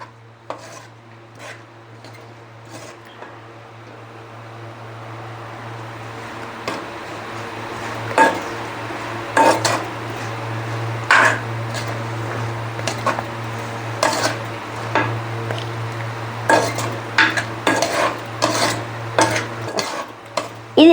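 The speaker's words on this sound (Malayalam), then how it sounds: "അതെ, എല്ലാം കൂടെ ഒന്ന് ചേർത്ത് ഇളക്കാം." Dried turkey berries and okra being stirred in a pan for a tamarind curry, a spoon scraping and clinking in repeated strokes over a steady low hum, growing busier and louder in the second half.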